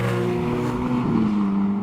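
A tuned 746 BHP Novitec Ferrari 430 Scuderia engine hums steadily and loud on a street drive, its pitch easing slightly downward over a brief stretch without speech.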